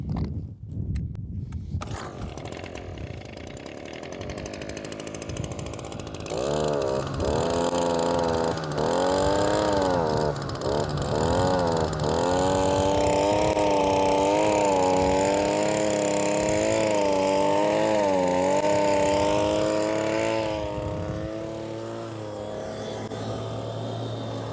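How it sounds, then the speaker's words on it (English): A Royal Manufacturing dry washer powered by a leaf blower drones steadily and loudly, with a rising, wavering blower whine taking over after a few seconds and holding until it eases slightly near the end. "Okay, we got enough, we can turn the dry washer on."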